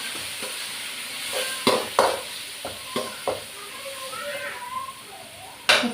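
Ground ginger-garlic paste, onion and green chili sizzle in a pan, a steady soft frying hiss broken by several sharp scraping knocks of a stirring spoon.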